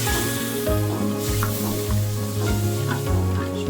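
About a glass of water goes into a pan of onion and spice paste frying in oil for a Bengali fish curry, setting off a loud, steady sizzle and bubbling with occasional stirring scrapes and no talking.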